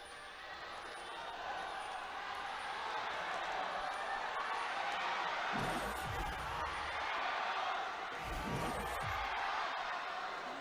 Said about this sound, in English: Everyone's just cheering for their teams at the exact same time.